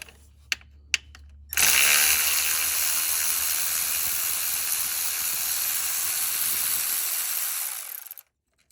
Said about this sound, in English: Get our electric ratchet again.